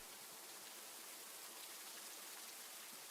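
Steady rain pours in a visual novel game, a dense, even, soft hiss that holds unbroken throughout at a low level, with no voices.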